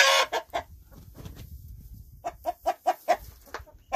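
Chickens cluck in a series of short, close bursts, quieter for a moment in the middle, then a quick run of louder clucks.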